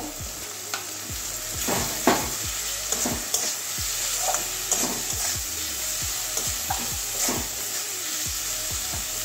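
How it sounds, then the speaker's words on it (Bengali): Potatoes frying in spiced oil for an egg and pointed gourd curry, a constant close sizzle with repeated scraping stirs of the spatula against the pan, no talking. "এবার আলুটা আগে দিয়ে দেবো।"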